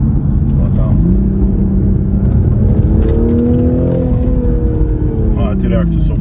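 Toyota Supra GR turbo engine and exhaust, a loud continuous drone as the car runs and revs with rising and falling engine tones, with people talking over it.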